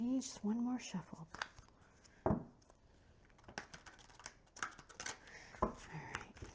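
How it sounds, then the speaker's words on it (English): Tarot cards being shuffled by hand, with soft riffling bursts and papery flicks spread across the stretch, close and quiet, mixed with a speaking voice at the start and brief handling noises. "bear with me, just one more shuffle."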